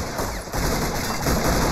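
Sustained machine gun fire in the trench battle game Army Men of War, a dense, steady crackle of rapid shots running continuously at close range with no pauses.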